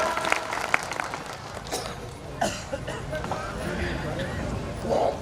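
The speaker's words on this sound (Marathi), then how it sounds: "सर्वजण जोरदार टाळ्या वाजवून आपण एकमेकांचं स्वागत करूया" Applause from a large gathering at a devotees' assembly, steady clapping sustained throughout with scattered claps, murmurs and a cough mixed in, moderately loud and diffuse.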